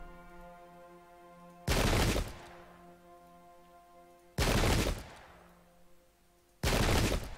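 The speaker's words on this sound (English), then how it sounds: "Just so we can keep firing with the cannon." Cannon fire in the Pike and Shot English Civil War video game: three loud, booming blasts, each trailing off in a short rumble, set well apart over a quiet, steady musical background.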